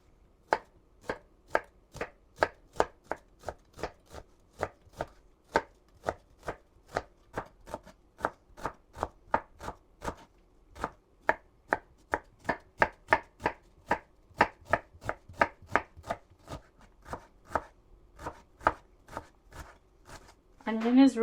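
An onion is chopped with a knife on a cutting board, a long run of crisp, evenly spaced chops at a brisk steady rhythm, close and clear.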